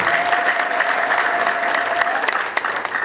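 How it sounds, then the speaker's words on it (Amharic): A church congregation applauds at a worship-song release service, with dense, steady clapping from many hands filling the room and a few sharper claps standing out as it slowly thins toward the end. "አጨብጭቡ ለጌታ ክብር።"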